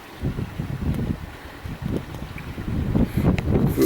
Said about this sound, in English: it's quite breezy, but that's keeping the flies away